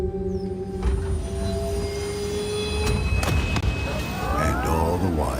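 A train runs on rails, steady rumble and clatter with sharp wheel squeals rising near the end, close and fairly loud, with no voices over it.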